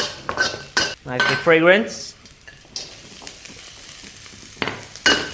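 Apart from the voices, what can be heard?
shiitake mushrooms stir-frying in a pan on medium heat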